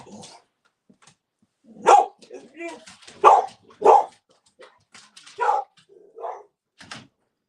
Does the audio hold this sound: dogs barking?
yes